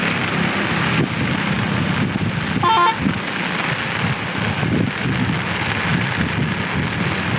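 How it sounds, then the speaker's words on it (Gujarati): Heavy rain and water overflowing Sasoi Dam in Jamnagar roar continuously, a dense wash of noise with a brief whistle-like tone partway through. "સસોઈ ડેમ. ફૂલ ઓવરફ્લો થઈ રહ્યો છે, અવાજ આપ સાંભળી શકો છો"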